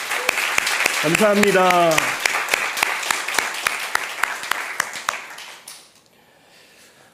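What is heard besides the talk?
church youth congregation applauding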